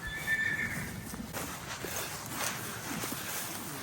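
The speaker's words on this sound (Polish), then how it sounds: "Tam za chwilę z terenu przyjedzie około 10 koni." Horses neigh loudly near the start, with continuous hoof clip-clop and stable noise throughout as roughly ten cold-blooded Sztum and Silesian horses come in from pasture.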